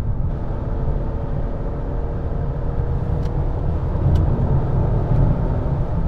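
Cabin view of a 2004 Lexus GS300 with about 150,000 miles cruising at speed on the road, a steady low road and engine rumble with faint tire hiss throughout.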